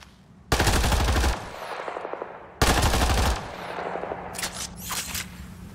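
Two long, loud bursts of rapid automatic gunfire from a weapon in the sci-fi shooter Mass Effect Andromeda, each about a second, separated by a pause, with shorter sharp shots and rattles trailing after.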